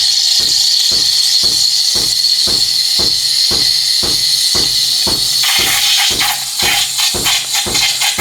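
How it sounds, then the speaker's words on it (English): Steady loud hiss of a steam wand in milk with rhythmic chirping pulses, the tone shifting lower partway through as it keeps going. "I'm going to put the steam arm just inside the top of the milk."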